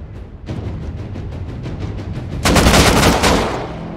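Double-barrel shotgun blasts in the survival game Rust, a fast run of close, punchy shots followed by a heavier, louder burst of fire near the end, with no voices.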